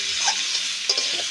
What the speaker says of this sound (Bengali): গুঁড়ো মশলার সঙ্গে আবার এই ঝিঙে আলু ভালো করে কষে নেব